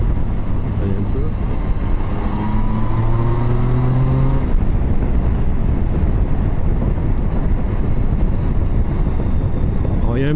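A 2016 Triumph Tiger Sport motorcycle engine revving up through rising pitch with a shift partway, loud and close, buried in heavy wind roar.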